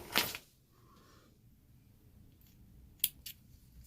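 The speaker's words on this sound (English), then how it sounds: "Cut this thread off." Scissors snip through a sewing thread close by: a sharp cut at the start, then a quiet pause and two quick snips later, all in a quiet room.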